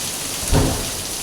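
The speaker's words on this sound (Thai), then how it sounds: "โอ้พายุเข้าเนี่ยทั้งลม ทั้งฝนเลยมั้งเนี่ย" Storm wind and rain in Pattaya, Thailand, a steady broadband wash of rain and gusting wind with a brief louder gust or rumble swelling near the middle, no voices.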